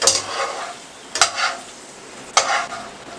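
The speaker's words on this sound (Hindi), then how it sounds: "किशमिश फूल रही है, बस फ्राई हो गई है।" Raisins fry in hot oil for a Kabuli beef pulao, giving a steady soft sizzle with a few louder bursts of stirring, close and alone with no voices.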